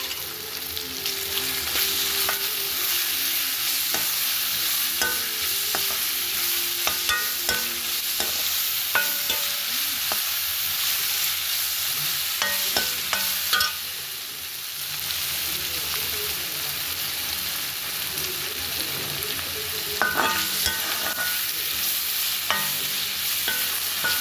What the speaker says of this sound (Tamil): வெங்காயம் நல்லா வதங்குது.